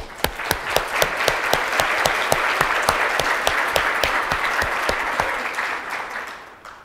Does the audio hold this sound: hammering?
no